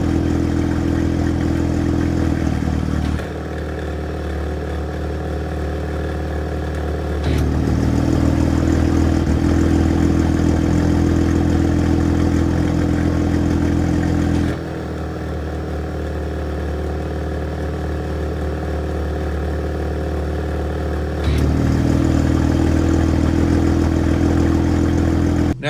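An Audi S4/S5 with its exhaust valves open rumbles steadily outside the car, a deep idling drone that swells louder in alternating stretches, heard with no talking.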